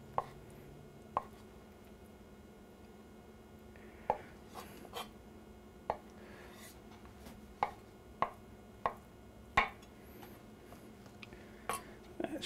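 A knife cuts hard-boiled eggs for potato salad on a board, producing about a dozen quiet, sharp, irregularly spaced taps over a soft background.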